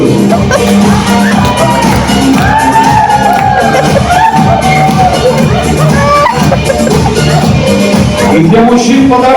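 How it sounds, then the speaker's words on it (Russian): Wives in a studio audience at a silver wedding anniversary show applaud and cheer for their husbands: a loud crowd of clapping mixed with shouts and whoops, with music and voices running underneath throughout. "а жены вам аплодируют"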